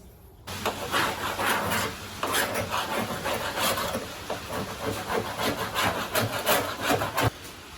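Cutting off firewall mat retainers on a 1966 Chevelle, a continuous close scraping and sawing with rapid rhythmic strokes for several seconds, no talking.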